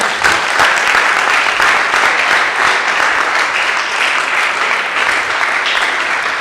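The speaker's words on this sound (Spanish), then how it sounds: "Le damos palmas a Dios." Congregation clapping in a church service, dense steady applause from many hands that fills the whole stretch at an even loud level, with a few faint voices mixed in.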